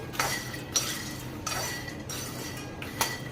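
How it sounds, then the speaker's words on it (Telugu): Phool makhana (fox nuts) being stirred nonstop as they dry-roast until crisp in a pan, with faint scraping and a few sharp clinks of the utensil against the pan at irregular intervals, quiet and close, with no talking. "ఆపకుండా కలుపుకుంటూ ఉండాలండి లేదంటే మాడిపోయే అవకాశం ఉంది"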